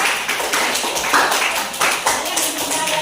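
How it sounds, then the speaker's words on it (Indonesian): Classroom group clapping hands in applause, a brisk burst of many overlapping claps continuing steadily for a few seconds, close and fairly loud. "Kasih tepuk tangan."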